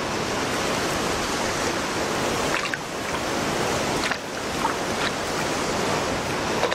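Surf washes steadily onto a Caribbean shore, a continuous broad rushing roar with slight swells and no voices, heard from close by.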